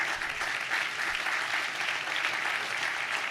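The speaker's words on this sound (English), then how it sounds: "if we could give him a round of applause" A round of applause from the crowd at a groundbreaking ceremony for the Woodhill Homes redevelopment in Cleveland, a continuous even patter of many hands at moderate volume.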